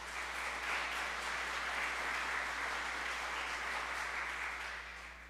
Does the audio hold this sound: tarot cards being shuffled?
no